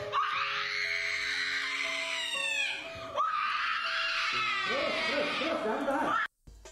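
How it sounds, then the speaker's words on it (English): A woman screams long and loud in two sustained bursts, shrill and wailing, with a brief break in between, cut off abruptly at the end, from a meme video. "Okay, woman screaming."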